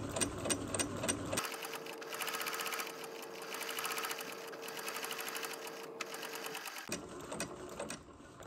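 A sewing machine stitches a straight seam, running steadily and close for about five seconds, with quieter, lighter stitching before and after.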